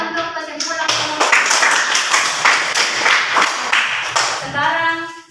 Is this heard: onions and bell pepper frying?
no